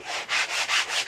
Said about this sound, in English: you can take a sandpaper, go across it